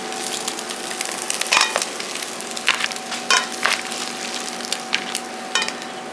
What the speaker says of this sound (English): now we're ready to just throw them in the pan here